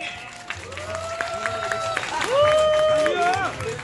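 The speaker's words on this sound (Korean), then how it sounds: "자, 박수 한번 부탁드립니다." Crowd applause at an outdoor trot concert by a singer's troupe in Iksan's Baesan Park during cherry blossom season, a diffuse clapping wash mixed with shouting voices and crowd noise throughout.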